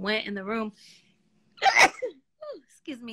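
A single sharp sneeze bursts out between stretches of speech, followed by talking again.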